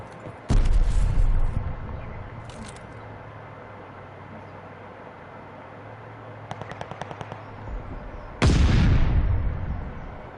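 Sticky bomb explosions in Call of Duty: a heavy blast that rumbles and decays, a few short sharp cracks, a quick burst of rapid pops, then a second loud explosion fading out.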